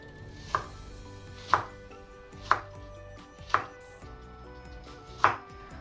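Knife chopping tomato on a board, five evenly spaced sharp thuds about one second apart, close and clear over a quiet kitchen background with no talking.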